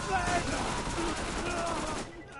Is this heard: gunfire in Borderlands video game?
yes